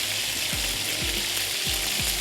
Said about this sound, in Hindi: हम इसको शैलो फ्राई कर लेते हैं